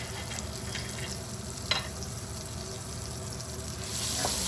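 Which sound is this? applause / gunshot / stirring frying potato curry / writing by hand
stirring frying potato curry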